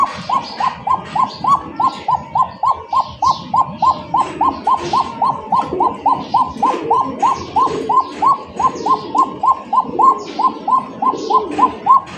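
Fancy racer pigeons coo in a quick, even rhythm of repeated notes close by, with soft rustles and scattered chirps underneath.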